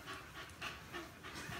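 Excited dogs pant in quick, rhythmic bursts of breath, close by and fairly quiet, with no talking.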